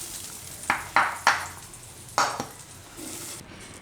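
Cooked fenugreek leaves being scooped out of a kadai with a metal spoon, a few sharp scraping clinks against the pan in an uneven rhythm, close and fairly quiet, with a faint soft sizzle between them.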